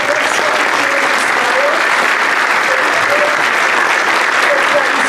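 Sustained audience applause fills a holiday school concert hall for the student performers, a dense steady wash of many hands clapping at even loudness throughout.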